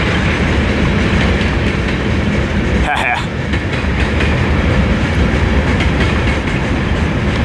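The Cadiz Local freight train passes on the Needles Subdivision near Barstow, California, with a close, steady, loud rumble and clatter of wheels on rail that holds throughout.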